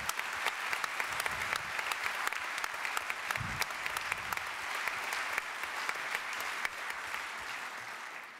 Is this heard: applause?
yes